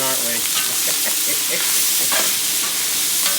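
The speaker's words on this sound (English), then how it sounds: "So the veggies are cooking." Vegetables stir-fried over high heat on a roaring 200,000 BTU wok burner in an Asian cooking class give a steady, loud, close sizzle and hiss throughout, with a voice briefly speaking over it.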